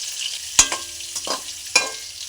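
Potatoes fry with turmeric in oil, a low steady sizzle broken by a few sharp clinks and scrapes of a spoon stirring in the pan, heard close with no talking.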